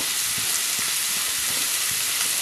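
Ginger-garlic paste sizzles steadily in hot frying oil while prawns are being cooked, a continuous bright hiss with faint crackles and soft stirring clinks, close and alone with no voices.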